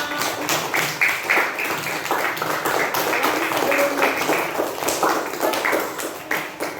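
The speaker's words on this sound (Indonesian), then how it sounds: "Tepuk tangan untuk kita semua." A classroom of schoolchildren clapping together, with a busy patter of many small hands and chatter mixed in.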